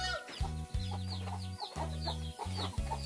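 A chicken clucks in short, repeated bursts at moderate distance. The sound is fairly quiet and steady, with a few brief pauses.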